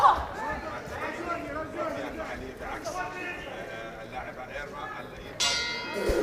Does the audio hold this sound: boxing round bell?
yes